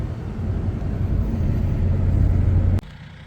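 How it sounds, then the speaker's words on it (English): A tractor engine idles after warming up, a close, steady low rumble that swells slightly and then cuts off abruptly near the end, leaving quieter background. "Okay, tractor's warmed up."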